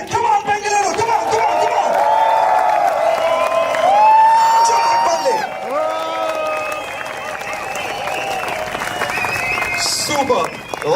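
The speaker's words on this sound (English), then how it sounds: "I want you all to do everything together. That is clap, whistle, scream together." A stadium crowd at a Bengaluru 10K running event claps, whistles and screams together in a loud, sustained roar, with shrill whistle tones rising above the mass of cheering throughout.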